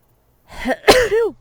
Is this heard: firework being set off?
no